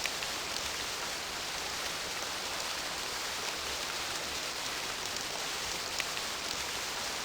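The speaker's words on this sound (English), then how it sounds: "now this world is now raining, despite the fact that it's not supposed to be raining" Steady rain hisses across the Stoneship age in the video game realMyst, a broad, even wash of falling water with faint scattered drops, continuous and moderately close throughout.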